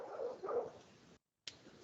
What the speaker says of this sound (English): She's actually that dog that we're hearing barking in the town.